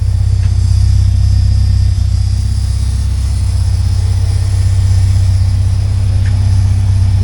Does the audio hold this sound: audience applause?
no